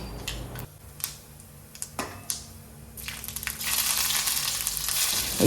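Continuous sizzling and crackling of mustard seeds spluttering in hot oil, with sharp pops early on that build into a dense, steady frying hiss.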